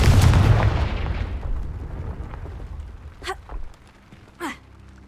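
A Confringo fire-blast spell erupts in Hogwarts Legacy, a loud close boom with a rumbling tail that decays over a couple of seconds, followed by short whooshing spell sounds.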